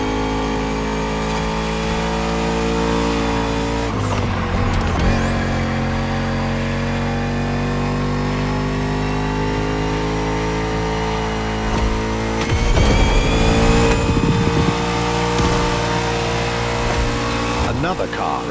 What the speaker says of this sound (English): Bugatti served me one last exclusive piece of art on a plate. The Bugatti Vision GT.